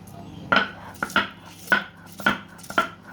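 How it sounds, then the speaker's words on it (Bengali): A large batch of big chillies is being ground into paste, five sharp, evenly spaced knocks about half a second apart, close and fairly loud over a quiet background. "এখন আমি বড় বড় মরিচ বাটব অনেকগুলা"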